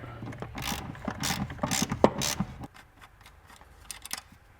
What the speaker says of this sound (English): we'll slacken this nut using a 14mm socket.